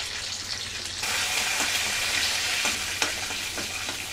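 Mustard seeds, chana dal, urad dal, curry leaves and split dried red chillies crackle and sizzle in hot oil for a tempering, a steady close frying hiss with faint stirring ticks throughout.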